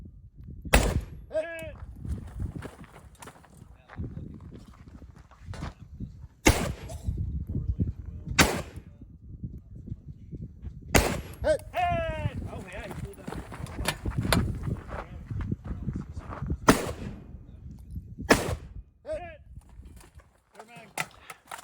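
Rifle shots at a desert shooting competition with steel targets, as sharp, loud, separate reports spaced several seconds apart, some followed by ringing pings from hits, over outdoor movement and handling noise.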